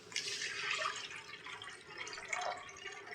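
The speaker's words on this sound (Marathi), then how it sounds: "आता याच्यात पाणी घालून घेते। हे स्टीलचं एक पातेलं मी।" Water running into a steel pot on the stove while cooking Maharashtrian masvadi, a steady splashing trickle with drip-like bursts, moderately close and without any talk.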